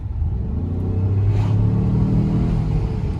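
A Ford Explorer SUV engine pulls hard while driving, a loud, steady low rumble that swells slightly as it accelerates, heard from inside the cabin with no talking.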